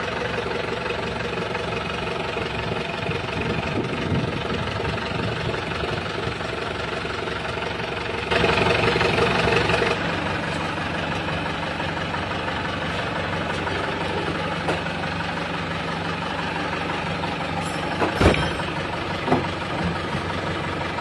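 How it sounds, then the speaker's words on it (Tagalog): A car engine idles after a flexible exhaust pipe replacement, a steady low mechanical hum with even knocking pulses that continues for a long stretch, with a few louder clanks and bursts along the way. "makikita natin ang anda na makina ay pino na rin"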